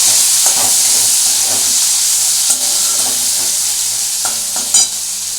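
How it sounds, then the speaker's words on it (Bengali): Chopped onions are stirred as they fry in a pan for a Bengali fish curry, giving a loud, continuous bright sizzle with occasional spatula scrapes and a few sharp clinks, no talking. "পেঁয়াজটা দিয়ে নাড়াচাড়া করবো"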